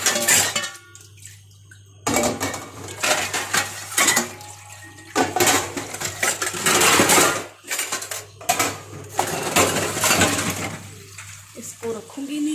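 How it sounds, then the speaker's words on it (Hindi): Washed dishes, pots and utensils being gathered and stacked together in a home kitchen, giving repeated clattering metallic clinks and knocks in bursts, close and fairly loud, with a low steady hum underneath and someone talking at times. "देखो अब मैं इसमें इकट्ठे करने लगी हूँ सारे बर्तन धो के।"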